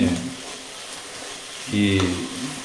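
Mustard seeds pop and splutter in hot oil while a curry is being cooked, a steady close sizzle with a louder burst of crackling near the end; a voice speaks briefly over it.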